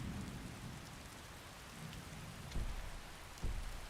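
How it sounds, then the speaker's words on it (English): Thunderstorm with steady heavy rain hissing across the spectrum, punctuated by two low rumbling thunder thumps near the end, loud and close. "I absolutely love the sound of the thunderstorms."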